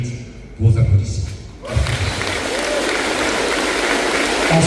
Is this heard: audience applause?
yes